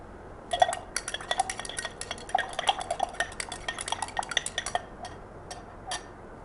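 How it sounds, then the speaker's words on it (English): A copper sulphate solution with sulfuric acid is stirred in a glass vessel, producing quick, light clinks and taps in steady bursts against a quiet background. "So, keep on stirring the liquid."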